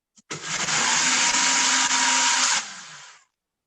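A blender or food processor whirs on low speed as it blends cake batter. The motor starts abruptly, holds a loud, steady roar for about two seconds, then winds down and stops.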